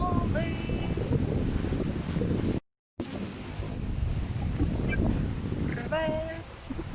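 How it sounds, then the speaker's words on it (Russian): Sea waves roll in while strong wind buffets the microphone, making a constant loud roar and rumble on a walk by the shore, with people's voices in the foreground and a brief dropout partway through. "Волны, волны, волны."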